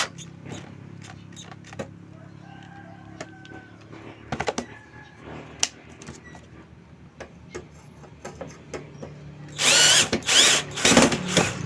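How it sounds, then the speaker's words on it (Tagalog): A power drill drives a screw into the heatsink of a Konzert 302 amplifier, with scattered clicks and handling knocks leading up to a loud, close burst of whirring drill near the end. "So, lalagyan natin siya ng tornilyo sa ilalim."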